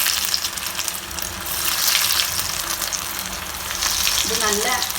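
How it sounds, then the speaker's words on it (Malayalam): Shaped snacks coated in bread crumbs fry in hot oil over a full flame, giving a steady, loud sizzling crackle throughout with no talking. "ഇപ്പോൾ എണ്ണ നന്നായിട്ട് ചൂടായിട്ടുണ്ട്. അപ്പോൾ നേരത്തെ നമ്മൾ ഷേപ്പ് ചെയ്ത് വെച്ച ഓരോന്നെടുത്ത് ആ എണ്ണയിലേക്ക് ഇടുക"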